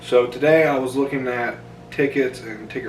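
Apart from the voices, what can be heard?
No everyday noise stands out behind the speech.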